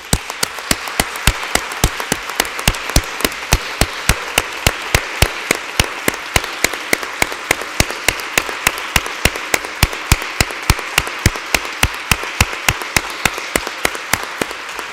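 An audience at a Second Republic anniversary commemoration gives a tribute round of applause, steady rhythmic unison clapping in sharp regular beats that continues throughout.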